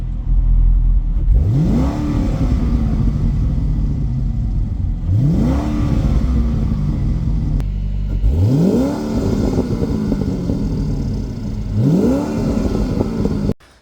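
A C6 Corvette with an LS2 V8 running an E85 kit accelerates hard four times in a row, each pull a loud, rising engine roar ending in a brief drop, close and with no talk.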